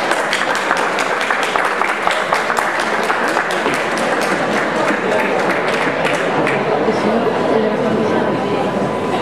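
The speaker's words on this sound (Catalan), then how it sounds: "Un fuerte aplaudimiento para el alumnado" An audience applauding at a school graduation ceremony for upper-secondary and vocational students, the clapping dense, loud and continuous throughout.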